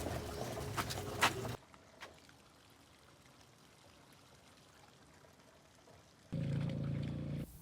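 Washing machine drain water gushes out during hand-washing of clothes in the Philippines, a rushing pour at the start that stops, a quiet pause, then a second steady stream of draining water, close and moderately loud with no talking.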